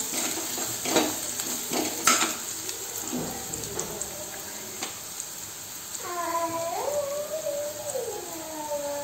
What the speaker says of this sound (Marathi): त्यात अद्रक लसूण पेस्ट टाकायची आहे आता गॅस कमी केलेला आहे